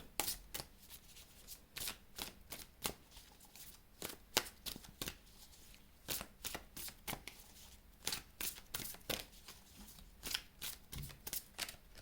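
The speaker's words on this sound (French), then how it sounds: "je vais tirer une carte" Oracle cards being shuffled and drawn, producing rapid bursts of crisp riffling flicks in irregular clusters, close-up and fairly quiet, with no voice.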